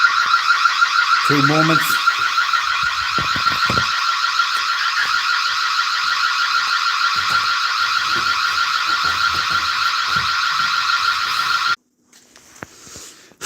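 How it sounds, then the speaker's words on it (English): A shop's alarm system sounds continuously at close range, a loud steady electronic tone with a pulsing warble that runs for about twelve seconds before cutting off abruptly, with a brief spoken word partway through. "Basically, it's my shop alarm."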